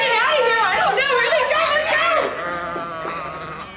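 A flock of sheep runs past, bleating in many overlapping wavering calls close by, with people chattering and laughing over the noise.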